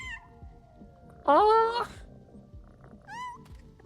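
Cats meow in the Powerwash Simulator 2 video game: one loud, drawn-out meow near the middle and a shorter one near the end, with faint earlier mewing and a brief spoken exclamation.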